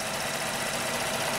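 A Kia sedan engine idles with its V-belt turning, a steady, smooth, fairly quiet mechanical hum close by with no voices.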